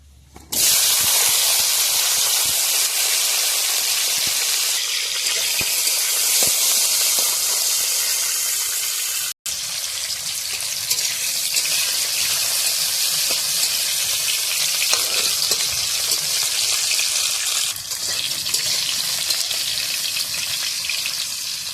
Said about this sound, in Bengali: তেলের উপর একটু ভেজে নিলাম